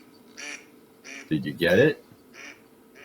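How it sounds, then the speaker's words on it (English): A mallard duck gives a few short quacks, the loudest in the middle, with a person speaking briefly alongside. "It is our mallard."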